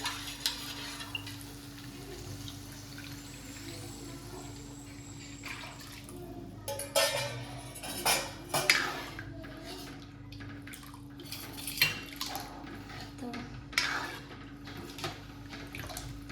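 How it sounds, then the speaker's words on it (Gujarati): Buttermilk kadhi with turmeric is stirred in a pot, giving soft liquid swishes and scattered clinks of the spoon against the pot, irregular and faint against a low background hum. "હવે છાશ નાખી દઈશું છાશ આપણે રેડી છે એ બહુ સરસ ફેરવી લઈએ"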